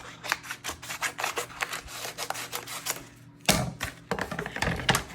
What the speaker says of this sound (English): I'm going to cut this area just because I don't need this extra.